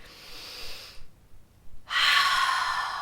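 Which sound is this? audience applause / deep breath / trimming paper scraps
deep breath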